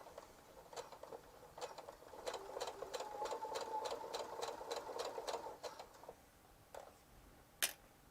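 A quiet sewing machine stitches straight across a zipper pouch, a regular run of soft ticking needle strokes that speeds up into a steady burst and then trails off into a few isolated clicks.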